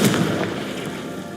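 Confringo blasting spell going off in a Harry Potter video game, a single loud, close explosive blast that decays into a short rumbling tail.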